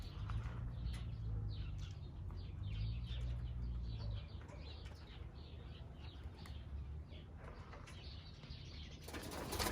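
Birmingham Roller pigeons flying and cooing at a loft, with soft wing flaps and faint coos over a steady low rumble, no voices.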